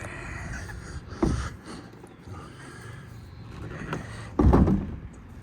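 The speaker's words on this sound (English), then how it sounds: "I'm just going to open the bonnet now." Heavy bonnet of a BMW E21 Baur Cabriolet being opened, a couple of close mechanical clunks and a rustling thump near the end over faint background noise.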